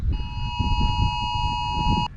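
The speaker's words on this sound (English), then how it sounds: "Our phones are going off saying that we're in a tornado warning right now." Phones blare a tornado warning alert: a steady, piercing electronic tone holds for about two seconds and then cuts off, loud over rumbling outdoor wind noise at a campsite.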